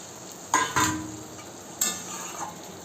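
Katla fish pieces sautéed in spice masala for a Bengali kalia, cooked in a pan: a low, soft sizzle broken by a few sharp spoon scrapes and clanks, with no talking.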